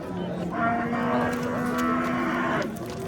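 A cow moos loudly and steadily at the Mirshodi livestock bazaar in Oltinsoy, Surxondaryo, one long drawn-out bellow with a low harmonic tone, close to the listener, over a busy market background.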